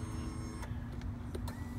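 The power-adjustable steering wheel of a 2016 Nissan Murano Platinum runs on its electric motor, a low, steady mechanical hum with a few small clicks on top, close and quiet.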